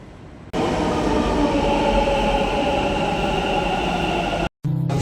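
A Bangalore Namma Metro train in a station, a loud, steady rumbling drone of the moving train that starts abruptly and continues without pause, then cuts off briefly near the end.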